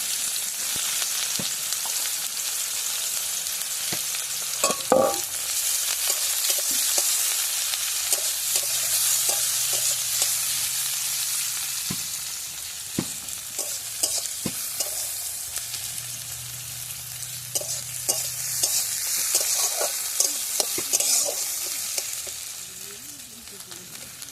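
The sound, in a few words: onions frying in oil with five-spice tempering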